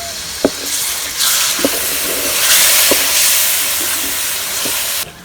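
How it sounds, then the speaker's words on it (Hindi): Water splashed onto chillies and spices frying in oil for a village-style moong dal bursts into a loud, steady steam hiss and sizzle, punctuated by a few sharp clinks, and cuts off abruptly near the end. "थोड़ा सा पानी का छमका लगाएंगे ताकि मिर्च जो है वो जले ना।"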